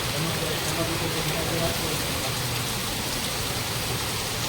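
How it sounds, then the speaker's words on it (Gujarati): Heavy monsoon rain in Surat pours down in a dense, steady roar, close and loud throughout with no letup. "સવારનો એક ધારો વરસાદ છે"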